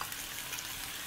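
Black beans hit a hot frying pan during a Southwestern chicken pot pie build, giving a steady, soft sizzle and crackle close up, even and continuous throughout the short moment with no talking.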